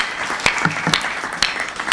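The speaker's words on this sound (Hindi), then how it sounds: "आइए मंत्री जी के लिए ताली बजा दीजिए" An audience applauds for a minister at a Hindi humour event with moderate, fairly sparse clapping, a few loud claps standing out against a softer patter of hands.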